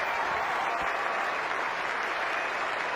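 Large cricket crowd at Lord's applauding a batsman's century, a dense, steady roar of clapping that fills the whole stretch without a break.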